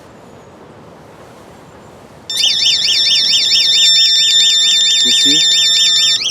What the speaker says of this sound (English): So now you hear also the alarm on the system.